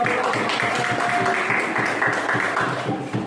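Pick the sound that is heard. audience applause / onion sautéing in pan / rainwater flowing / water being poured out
audience applause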